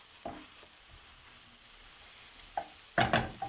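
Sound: stirring dried green beans in the pan

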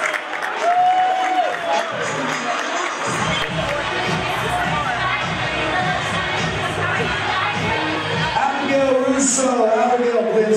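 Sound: audience applause at a fashion show

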